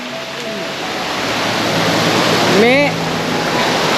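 Asupini Ella waterfall on the Ma Oya crashes down in a loud, continuous roar of falling water, with someone speaking briefly over it and a bird's rising chirps near the end.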